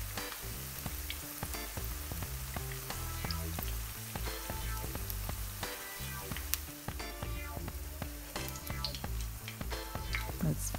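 Ackee and saltfish fritters frying in a pan of oil, a loud, steady close sizzle with scattered pops and crackles running throughout.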